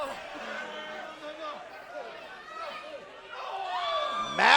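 Crowd at a wrestling event chanting and shouting along in a loose rhythm, moderately loud and rising toward a sharp burst at the end.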